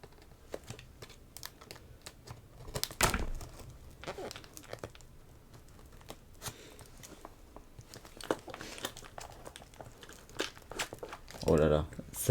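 Crinkly packaging being unwrapped with scissors nearby, sparse crackles and rustles, soft and close, with a louder burst of crumpling near the end and quiet speech in between.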